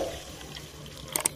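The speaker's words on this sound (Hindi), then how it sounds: "पानी डाल देते हैं" Water is poured into ground urad dal mixed with roasted spice for Jharkhand dubki, a faint watery trickle that ends in a couple of quick splashes.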